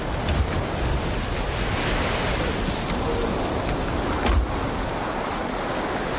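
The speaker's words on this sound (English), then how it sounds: "it's annoying when it rains all the time" Steady rain in the Valheim video game, a dense, loud hiss of falling drops continuing throughout with a few sharper patters.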